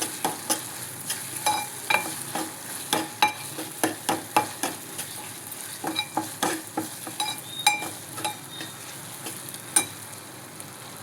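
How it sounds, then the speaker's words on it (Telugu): Ginger-garlic paste with onions frying and being stirred in a pan for a prawn curry, giving a steady soft sizzle broken by many short scraping strokes of a spoon, fairly close and with no talk. "కొంచెం అల్లం వెల్లుల్లిపాయ పచ్చివాసన పోయేంత వరకు వేయించాలి"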